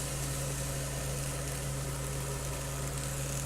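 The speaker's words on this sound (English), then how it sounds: "Sorry about the fan noise, I've got the range on." A steady mechanical hum from a kitchen range hood fan with a low droning tone, running continuously and evenly throughout, no voices.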